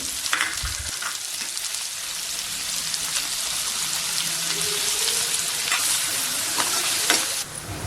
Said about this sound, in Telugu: ఇదే ఆయిల్లో ఒక కప్పు చిన్నగా కట్ చేసి పెట్టుకున్న ఆనియన్ ఇంకా పచ్చిమిర్చి వేసుకుని ఫ్రై చేసుకోవాలి